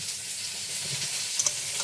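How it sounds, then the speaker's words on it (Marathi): Eggplants fry in a pan with a close, steady sizzle and faint stirring, ending with a couple of light clicks. "चला वांगे असे फ्राय झाली"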